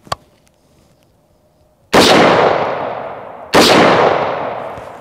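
Two loud rifle shots of a 7.62x51mm (.308) round fired at AR500 steel body armor, each a sharp crack followed by a long fading ring, about a second and a half apart, with a faint tap just before.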